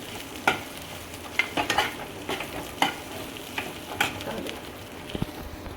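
A red chilli sabzi is stirred in a hot pan before being covered on low gas. Irregular spatula scrapes and knocks cut through a soft background sizzle, close to the listener, with no speech.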